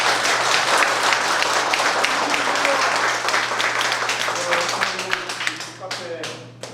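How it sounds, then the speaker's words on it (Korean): A crowd at a Korean community cafe opening event for a political figure's visit gives hearty applause, dense clapping close and loud that thins into scattered claps at the end, with some voices mixed in. "좋은 꿈 이루도록 힘찬 박수 부탁드리겠습니다"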